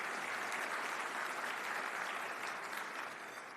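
Dense, steady applause fills a room at a chamber of commerce business event honoring local business leaders, many hands clapping at close range and easing off slightly at the end.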